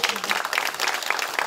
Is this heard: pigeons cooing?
no